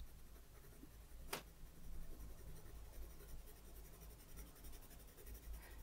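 Graphite pencil shading very lightly on paper with an overhand grip, a soft continuous scratchy rustle running steadily at low level, with one sharper stroke sound near the start.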